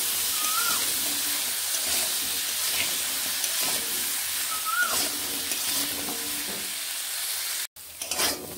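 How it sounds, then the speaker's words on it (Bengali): Potato, carrot and papaya pieces with turmeric fry in a pan with a continuous sizzle and occasional stirring scrapes, then a brief dropout and a few clatters near the end. "এখানে একসঙ্গে আমি আলু, গাজর ও পেঁপেগুলোকে ভেজে নিচ্ছি"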